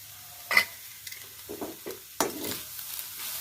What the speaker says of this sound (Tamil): நல்லா ஒன்று சேர கிண்டி விடுங்க.